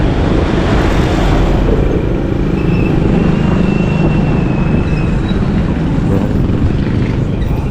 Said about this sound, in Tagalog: Ang daming motor ah.